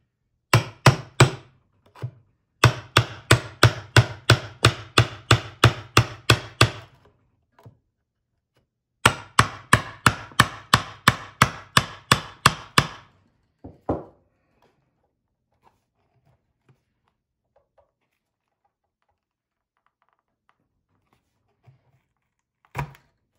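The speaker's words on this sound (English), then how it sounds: "Ohm suggests we do this with a hammer and chisel or block of wood." A hammer and chisel drive out the old input board of an Ohm Walsh 2 speaker. Two long runs of rapid, sharp, evenly paced close strikes are separated by a pause, then a few isolated taps and long silence follow.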